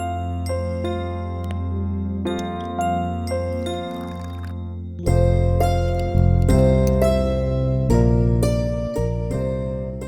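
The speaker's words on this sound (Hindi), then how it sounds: "रोज सुबह घंटी की आवाज और इसकी बड़बड़ सुननी पड़ती है मुझे" A temple bell rings during Hindu morning prayer at home. Repeated bright, ringing strikes come in a steady rhythm against a resonant musical background that grows louder partway through.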